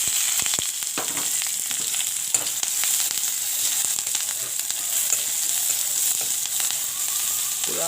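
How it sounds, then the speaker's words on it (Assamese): Chopped onion and green chili fry in hot oil with cinnamon and a bay leaf in a home kitchen, giving a steady, loud, continuous sizzle with occasional crackles and stirring scrapes, no voices. "পুৰা ভাজি লৈছোঁ দেই"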